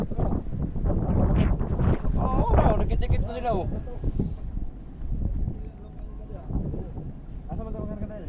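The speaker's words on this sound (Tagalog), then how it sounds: "Grabe, lakas ng hangin." Strong wind buffets the microphone aboard a boat loading ice, a loud continuous roar under nearby voices talking throughout.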